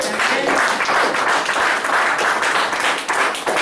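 A church congregation gives loud, sustained applause to the Lord, dense clapping that fills the space evenly from start to end, with cheering voices mixed in.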